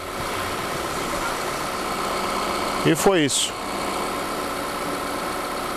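A Volkswagen Tiguan engine, its valve cover diaphragm freshly replaced, idles with a smooth, even drone at close range, while a brief spoken phrase cuts in midway.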